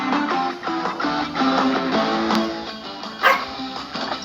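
Dog barking and yipping repeatedly indoors, moderately loud short bursts in an uneven rhythm with some whimpering tones, close to the listener.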